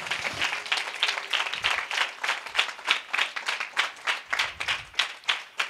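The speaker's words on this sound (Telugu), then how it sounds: "just give big claps to Jesus Christ" A church congregation at a Sunday sermon claps together in a steady, rhythmic beat, loud and close, roughly two claps per second throughout.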